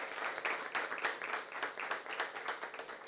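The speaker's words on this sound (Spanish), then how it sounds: "a nuestra mesa de honor, a quien damos un fuerte aplauso" Guests at a book launch for a rosary book clap for the head table of honour, with quiet, rhythmic applause from a modest group at some distance, rising and falling in regular pulses.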